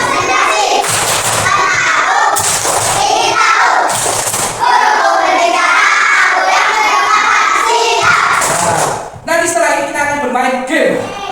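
Schoolchildren in a classroom perform the tepuk konsentrasi clapping chant, loud group voices chanting together with sharp, rhythmic bursts of unison claps, close and energetic.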